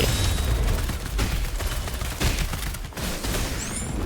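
Gunfire from Chixia's slide shots in the game Wuthering Waves crackles as a rapid, dense barrage of shots with booming impacts, loud and continuous, ending in a bright whooshing effect.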